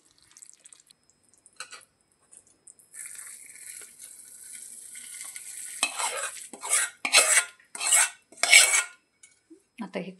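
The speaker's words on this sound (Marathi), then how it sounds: "आता मी हे सगळं मिश्रणमध्ये ओतून घेते." Melted jaggery pours in a thin hiss into a soybean and peanut mixture, then a spoon stirs it in a run of loud, rhythmic scraping strokes against the pan, close up.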